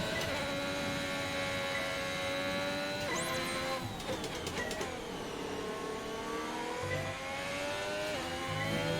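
A Formula 1 car engine in the F1 2021 racing game, with a Lamborghini team car, whines at high revs under acceleration. The pitch drops at gear changes and corners, then climbs again, loud and continuous throughout.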